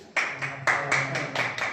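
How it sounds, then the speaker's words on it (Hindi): A short burst of clapping from guests at a Hindu wedding ceremony after the seven rounds are completed, several sharp, close hand claps in an uneven rhythm lasting under two seconds. "जोरदार तालियों का स्वागत करेंगे"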